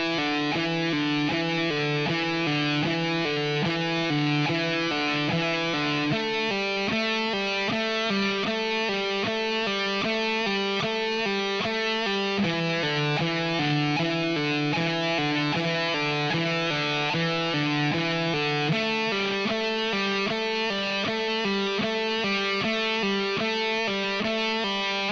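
Electric guitar plays a repeated pull-off exercise, a clean rock tone cycling through the same quick note pattern in a steady rhythm, loud and alone without talk.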